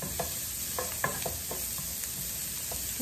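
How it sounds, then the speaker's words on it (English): Chopped onion sautéing in a pan, a steady close sizzle broken by several brief scrapes and taps of a spoon stirring. "We add the onion. We saute the onion"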